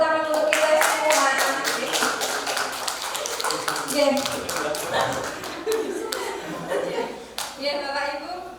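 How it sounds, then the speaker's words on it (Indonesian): Clapping from a school audience at SMK Al-Islam Surakarta, a steady run of many hands striking in close, fairly loud bursts with some chuckling and voices mixed in, continuing for several seconds before thinning out. "Tepuk tangan untuk kita semua."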